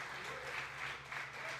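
Congregation at a church prayer service applauds, a faint, even patter of clapping filling the brief moment from a distance, without speech.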